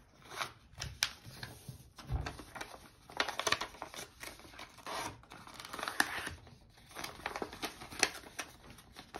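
Paper for origami is bent back and forth along a crease, giving soft, close crinkling and crackling rustles in irregular bursts throughout, with no talking.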